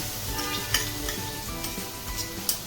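Asafoetida and ground green chili paste sizzle in hot oil while being stirred, a dense steady frying hiss with a few sharp spatter pops, close and alone with no talking.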